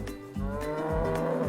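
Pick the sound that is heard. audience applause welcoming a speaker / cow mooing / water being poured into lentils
cow mooing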